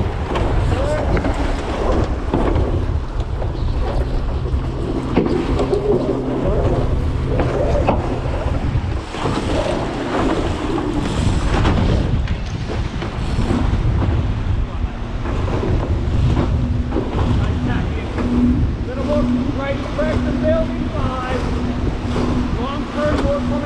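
An M32 catamaran racing sailboat tacks in wind, with loud gusty wind buffeting the microphone, water rushing against the hulls and rigging noise, while crew voices call out over the din.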